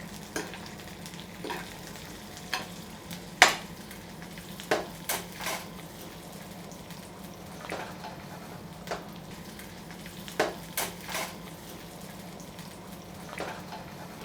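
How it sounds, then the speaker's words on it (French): Carp fillet on a hot plate gives a steady low frying hiss throughout, with scattered sharp crackles and pops and no voices. "On va mettre la carpe sur la plaque et on va pouvoir surveiller la cuisson"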